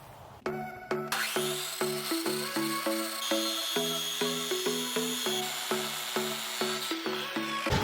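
An electric wood planer at an off-grid cabin runs under load as boards feed through, giving a loud, steady, high mechanical whine that pulses rhythmically throughout.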